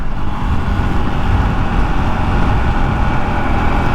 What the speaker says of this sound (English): All right, let's try this cold decel again.